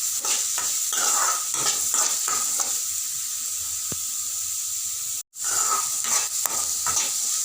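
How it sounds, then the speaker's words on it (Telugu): Finely chopped cabbage, onions and green chillies are stir-fried in a pan for veg cutlets. A loud sizzle sounds under repeated scraping stirs, with a brief dropout before the stirring resumes. "దోరగా వేయించుకోండి."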